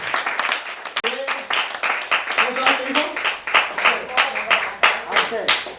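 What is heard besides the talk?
congregation applauding in church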